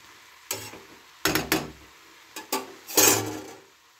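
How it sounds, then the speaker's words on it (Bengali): Salted cauliflower stirred in a pan as its water cooks off: several short bursts of scraping and clattering from the spoon against the pan, over a soft sizzle, close by. "এবার একটু ভালো করে নেড়ে দিলাম"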